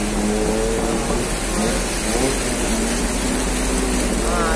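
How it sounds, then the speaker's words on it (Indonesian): In the first-ever high flood in Banjarmasin, a vehicle engine struggles in deep floodwater, a loud, continuous, strained droning that holds steady with a rising pitch toward the end. "Nah, itu mogok tuh bunyinya tuh."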